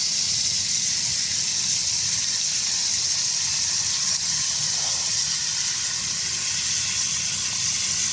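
Chips frying in lard in a cabin kitchen give off a loud, steady sizzling hiss that carries on without a break, with no voices over it.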